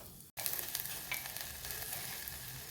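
Cumin seeds, red chili powder and asafoetida sizzle in hot oil for a quick high-protein breakfast, a steady close crackling hiss with small pops, broken by a brief silence near the start, no voices.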